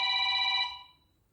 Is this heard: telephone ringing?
yes